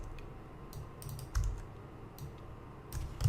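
Typing on a computer keyboard while writing code, with irregular bursts of close keystroke clicks separated by short pauses over a quiet room hum, and no talking.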